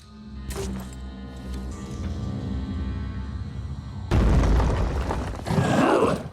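Explosions in the tactical video game Phoenix Point: a mechanical whirring background is broken by two heavy, loud booming blasts near the end.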